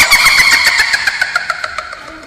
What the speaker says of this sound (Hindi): उसने गाड़ी स्टार्ट करी।